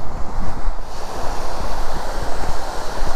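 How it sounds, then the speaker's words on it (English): Scale Force, the tall waterfall in the Lake District, gives a constant broadband roar of falling water, loud and continuous, with some wind buffeting on the microphone. "you can hear the noise of the waterfall and the water in the background."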